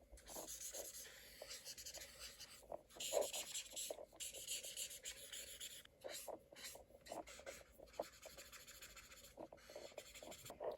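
Pencil sketching a woman's hair on paper, with quick scratchy strokes in repeated bursts and brief pauses, close and quiet, with no talking.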